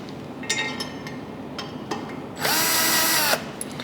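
A power drill drives bolts into the base plate of a Maxwell table, with a few short clicks and taps and then a steady, loud whirring burst of about a second, very close by.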